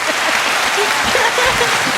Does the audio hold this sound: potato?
no